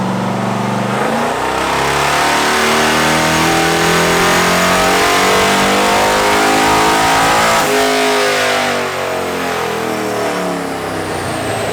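A turbocharged car engine revs hard under load on a dyno, its pitch climbing steadily in a long loud pull before easing off, with no talking.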